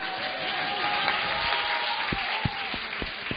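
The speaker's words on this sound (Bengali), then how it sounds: "সবাইকে ধন্যবাদ, অনেক হাততালি প্লিজ" An audience at a competition show clapping steadily, a moderate wash of applause with a few sharper individual claps standing out toward the end.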